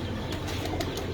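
Red-eyed breeder pigeons coo softly in a loft, giving a brief low, murmuring burble with a few faint flutters, close by and with no talking.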